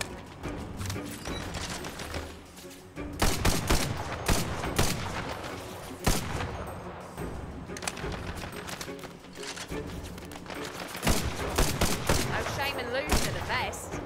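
Enemies in Tiny Tina's Wonderlands fire on the player in rapid, loud bursts of gunfire that come in repeated volleys throughout, dense and close, with game combat noise around them.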